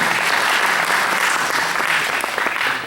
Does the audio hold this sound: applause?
yes